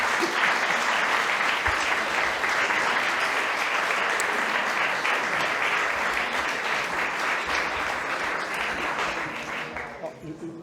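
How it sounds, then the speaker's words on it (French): An audience at a finance conference gives a long, even round of applause after a talk, with dense clapping that holds steady and then fades in the last couple of seconds. "merci d'applaudir parce que franchement, ça vaut le coup"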